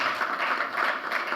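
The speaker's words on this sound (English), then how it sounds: "Another round of applause for her." Sustained audience applause at a conference plenary session on the next financial crisis, a steady even wash of many hands clapping with no voices over it.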